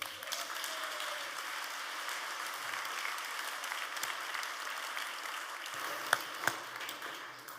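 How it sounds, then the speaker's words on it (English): A crowd at a political debate event in the Emmanuel Centre gives the host a round of applause, an even, moderately distant wash of clapping with a couple of sharp clicks near the end. "Please give a very, very warm round of applause to your host"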